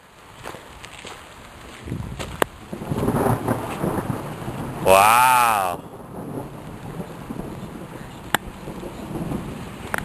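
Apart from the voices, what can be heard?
thunder from lightning in a foggy storm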